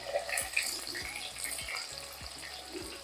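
A large chopped onion sautés in a pan with mustard seeds, asafoetida and green chillies, a steady soft sizzle with periodic scraping stirs of a spoon against the pan.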